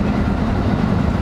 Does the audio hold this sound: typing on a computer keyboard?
no